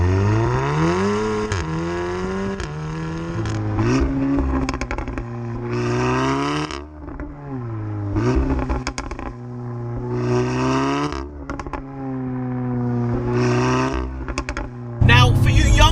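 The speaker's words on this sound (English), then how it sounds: "it makes a bloody good sound out of that Miltech" A 400 bhp APR Stage 2 Audi S3 8V with a Milltek exhaust accelerates hard. The engine note climbs and drops with each gear change, with loud, raspy revving heard from inside the car.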